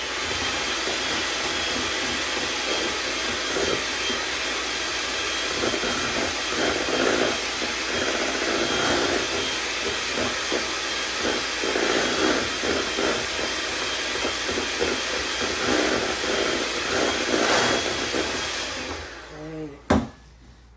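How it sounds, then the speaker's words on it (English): An electric mixer whirs steadily through batter for about nineteen seconds, a loud continuous motor hum with slight rattles, then switches off and stops abruptly near the end. No one speaks. "now we're going to take the mixer again. And we're going to mix it in."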